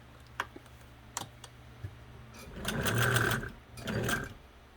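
A Kenmore 95 sewing machine stitches in two steady bursts of whirring needle motion, close and clear, preceded by a few soft clicks from turning the handwheel.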